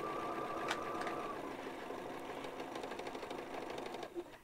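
Sewing machine stitching down a straight line, a quiet, steady rapid mechanical patter that fades near the end, with a brief tonal whine early on.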